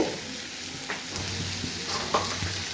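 Poppy seed paste and potatoes stirred in a pan give a continuous soft sizzle, broken by a few faint scrapes and taps of the spoon.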